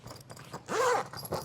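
Internal zipper of a diving drysuit being pulled open, a short sliding rasp with a rising-falling sweep lasting about a third of a second, close and fairly quiet.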